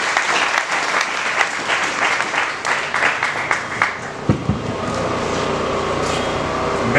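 An audience at a Kasai Central directory launch claps loudly for the bâtonnier, dense applause that tapers off after about four seconds into quieter room noise with a few stray claps.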